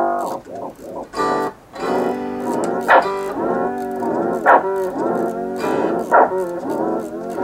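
Guitar run through a delay pedal as the delay time is raised, bending the repeats downward in pitch; dense, harmonic tones with swooping glides and rhythmic plucked attacks, loud and alone.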